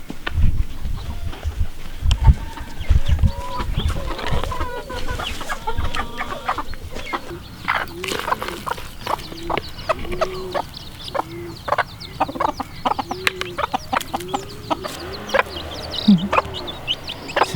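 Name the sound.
hens clucking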